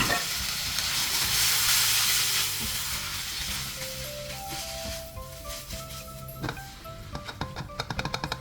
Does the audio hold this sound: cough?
no